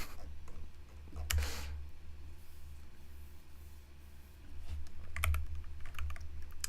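Someone types on a computer keyboard, producing sparse clusters of quick, light key clicks separated by short pauses. The clicks are close but quiet, with a low steady hum underneath and no speech.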